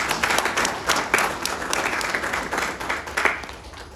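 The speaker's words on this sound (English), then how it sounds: "A round of applause to Comfort." An audience at a regional child rights event led by the education ministry applauds with lively, steady clapping from a sizeable crowd that stays loud throughout and rises in small surges.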